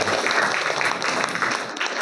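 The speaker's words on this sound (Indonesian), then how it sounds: "Tepuk tangan buat kita semuanya." A classroom group of students claps together, brisk and close, a full round of applause filling the room before tapering slightly near the end.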